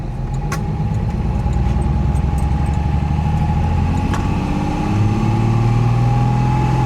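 A 1969 Mercedes 280SE drives along with a steady engine drone and low rumble, rising slightly in pitch near the end as it picks up speed, with faint clicks over the top.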